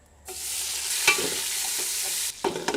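Ginger, onion and garlic dropped into hot oil, setting off a sudden loud, steady sizzle that holds for about two seconds, then drops back with a few close clatters and stirring scrapes.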